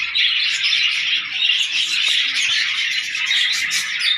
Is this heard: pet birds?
yes